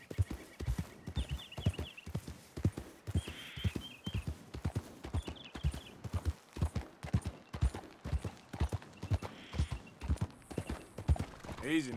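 Steady clip-clop of horse hooves in Red Dead Redemption 2, a regular close rhythmic trot with a few brief jingling sounds and a faint snort toward the end.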